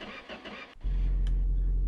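A car engine cranks briefly and then catches and settles into a loud, steady idle close by.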